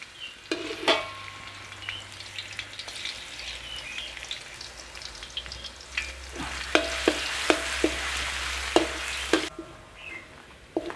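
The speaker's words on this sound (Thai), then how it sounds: "เดี๋ยวเราเอากระเทียมไปเจียวก่อนเอาไว้โรยหน้า เอาไฟกลางๆไม่ต้องแรงมาก" Garlic frying in oil over medium heat for a Thai black-pepper garlic shrimp dish, a steady crackling sizzle punctuated by sharp clinks and scrapes of stirring, growing busier toward the end.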